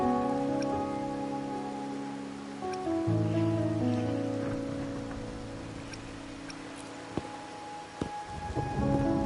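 Rain falls in the video game Wuthering Waves, a soft steady patter with scattered drips under sustained tonal music, fairly quiet and without voices.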